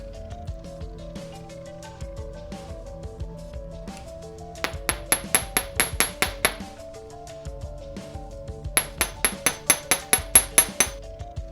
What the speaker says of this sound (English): Your ring will open a little bit again when you hammer it